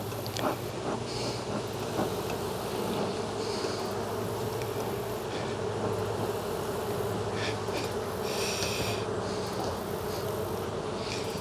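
Honeybees buzzing in a dense, continuous drone around an opened hive during an autumn inspection, steady and close with no voices.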